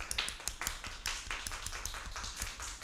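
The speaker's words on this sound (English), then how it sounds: "I'd ask for a round of applause for our two candidates" Scattered audience clapping for two youth debate candidates at a national debate event, a thin, uneven patter of hands with sharp individual claps, moderately close and fairly quiet, no talking.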